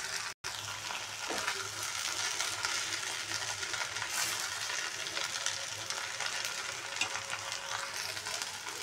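Crushed peanuts and soaked sago khichdi sautéing in a pan, a steady close sizzle and frying crackle with occasional stirring scrapes and a faint clink, continuous with no talk.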